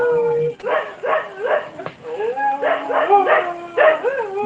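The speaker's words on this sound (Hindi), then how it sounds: "किसके यहाँ से आवाज आ रही है? कुत्ते की।" A dog barks and yips repeatedly through an open microphone on an online call, in close, loud rhythmic bursts with whimpering tones between them.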